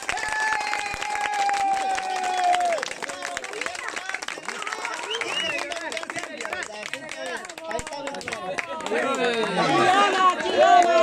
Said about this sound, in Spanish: Aplauso para Selena.